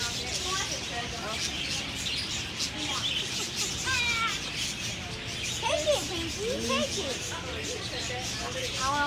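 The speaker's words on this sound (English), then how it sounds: "That's her bird." A pet parakeet calls indoors with repeated short chirps and squawks scattered across several seconds, while children and adults talk over it.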